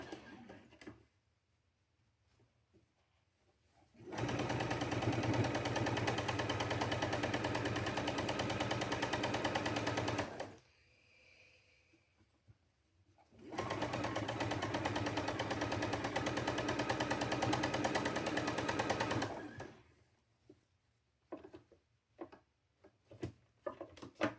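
A sewing machine stitches a goat quilt in two long steady runs of rapid mechanical whirring, each several seconds long, separated by quiet pauses with small handling clicks.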